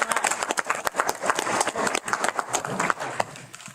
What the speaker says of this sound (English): Bring it a round of applause.